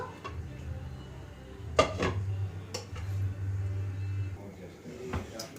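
A metal lid clatters onto a cooking pot of vegetable curry after water is added, giving a few sharp close clanks over a low steady kitchen hum.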